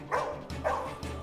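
Two short, sharp dog barks ring out, a little apart, moderately close, followed by a quieter third sound.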